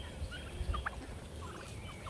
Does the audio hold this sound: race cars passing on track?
no